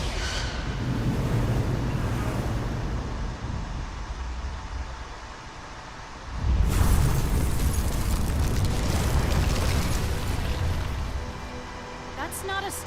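Weapons fire and explosions in a Star Trek video game, a dense roaring barrage that drops briefly, then surges back as a loud rumbling blast with crackling bursts over several seconds.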